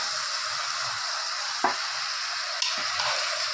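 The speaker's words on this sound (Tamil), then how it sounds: "கத்திரிக்காயும் கூட போட்டு வதக்கிடுங்க." Eggplant and tomato sauté in a hot pan with a continuous oily sizzle, broken by a few clinks and scrapes of stirring.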